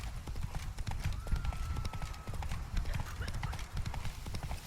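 A horse galloping in The Witcher 3: Blood and Wine, with rapid rhythmic hoofbeats close and steady throughout and a brief whinny partway through, under light game ambience.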